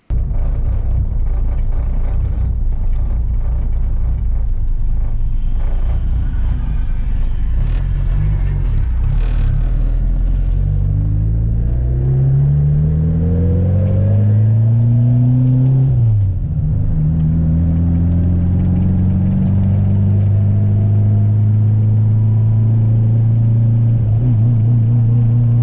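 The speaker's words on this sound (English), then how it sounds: "I'm gonna take it for a spin and make sure everything's good, no boost leaks, make sure the blow-off valve sounds good." A turbocharged car on a test drive roars loudly up close, the engine revving and climbing through gears with rising pitch sweeps, a brief drop, then a steady droning pull, with no talking over it.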